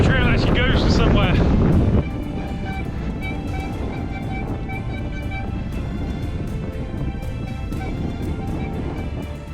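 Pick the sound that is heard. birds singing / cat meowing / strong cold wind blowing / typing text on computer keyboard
strong cold wind blowing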